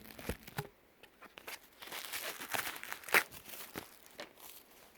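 Lens paper for cleaning a microscope crinkles and rustles close up in short, irregular bursts of soft crackling, with quiet gaps between handling sounds.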